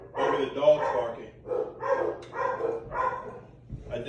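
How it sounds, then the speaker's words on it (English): Several dogs bark in bursts close by, roughly one every half second to second, sounding loud and fairly continuous through the short stretch. "Hopefully you'll be able to hear me over the dogs barking."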